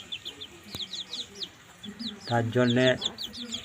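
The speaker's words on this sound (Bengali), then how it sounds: "আপনারা দেখুন, মুরগির বাচ্চা আমি নিয়ে চলে এসেছি।" Young chicks brought home in a carrier give repeated high, thin peeps scattered through the clip, with someone speaking briefly near the end.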